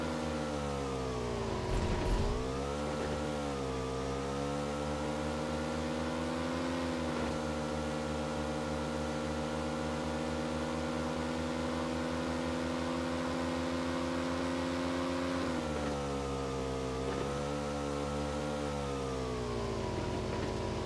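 A motorbike engine drones steadily during a ride in PUBG Mobile, a constant mid-level hum whose pitch dips and rises briefly as the throttle is released. No voices are heard.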